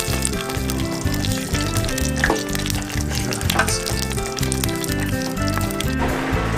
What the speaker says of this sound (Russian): Рэй, смотри, как жарятся чебуреки в масле.